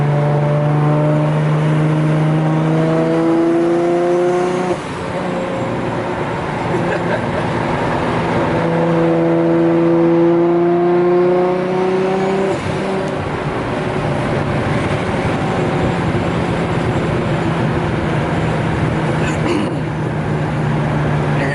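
A powerful Nissan Skyline GT-R R32 engine revs up and down repeatedly, close and loud, its pitch climbing and dropping in long sweeps.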